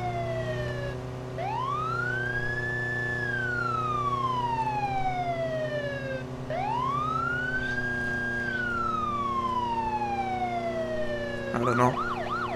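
Police siren in the video game Arma 3, heard as two long wailing rise-and-fall cycles over a steady vehicle engine hum, ending in a short burst of rapid yelping tones.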